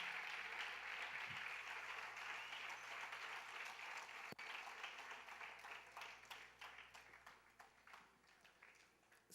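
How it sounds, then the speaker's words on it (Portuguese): Church congregation clapping for Jesus during a worship service, sustained broad applause that thins into scattered individual claps toward the end, moderately distant. "dá uma salva de palmas para Jesus aí"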